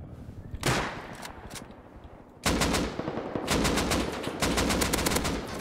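Automatic gunfire in Rust, aimed at a police helicopter: a single loud burst, then a pause, then long rapid sustained volleys of close shots firing in quick repeating rhythm.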